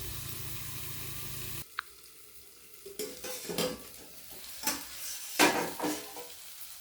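Spring onion greens cooking in a covered pan on a low gas flame: a steady low sizzle, then a quiet pause and intermittent stirring and pan scrapes, close and moderately loud.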